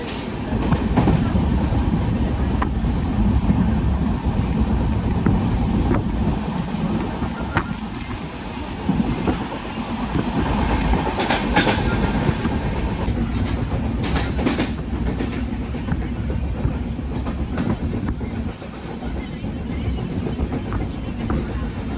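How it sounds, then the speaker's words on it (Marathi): A Konkan Railway train rumbles loudly with rhythmic clicking of wheels over rail joints, the clatter steady and building as it gathers pace leaving Kankavli station; faint voices in the background. "पिकअप पकडते गाडी कणकवली रेल्वे स्टेशनवरून"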